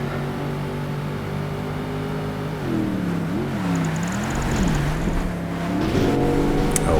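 A Nissan 240Z races in Project Gotham Racing 2, its engine a steady loud drone that swoops up and down through gear changes and throttle swells, with revs rising again toward the end.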